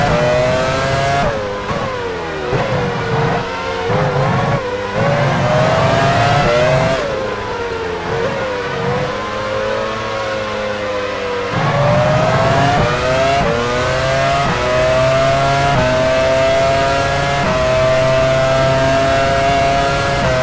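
Formula 1 race cars in F1 Challenge 99-02 at Silverstone's 2001 British Grand Prix, engines revving loudly and continuously as they shift gears into the pit lane, pitch rising and falling with each change.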